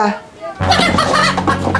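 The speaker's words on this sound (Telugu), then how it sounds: "ఒక కోడి సౌండ్ వస్తుంది" A burst of excited clucking from a chicken, loud and close, mixed with voices talking over it.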